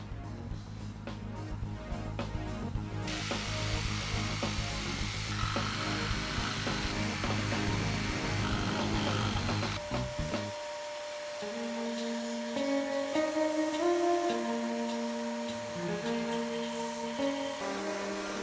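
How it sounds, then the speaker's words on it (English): A Dremel rotary tool with a sanding attachment shapes a piece of pine 2x6 for a gladiator helmet, giving a steady, loud buzzing whine for about ten seconds before music takes over. "I did some shaping on this piece with a Dremel tool and a sanding attachment"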